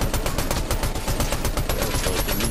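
Fortnite gunfire rings out in loud, rapid, evenly spaced bursts that keep going without a pause, close and dense with no voices over it.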